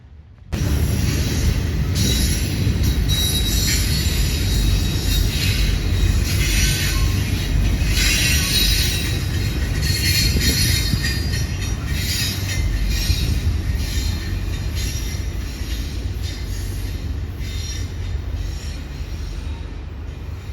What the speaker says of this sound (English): a Norfolk Southern intermodal train would surprise us and continue east towards the Maumee River Bridge.